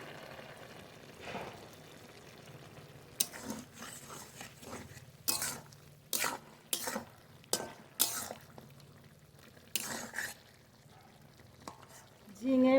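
Fish curry with ridge gourd and yardlong beans simmering in a pan in a home kitchen, a faint low bubble broken by a series of sharp clinks and scrapes of a utensil against the pan.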